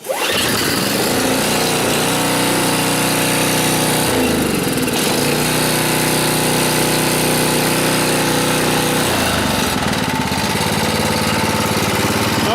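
A snowblower engine, started with the choke on, fires up and runs steadily at close range, a loud continuous drone with the note shifting a couple of times as it settles.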